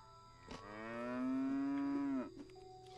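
A single long, low moo from a cow in the LEGO Jurassic World video game on Nintendo Switch, rising and holding for over a second before cutting off, clear and alone over a faint steady hum.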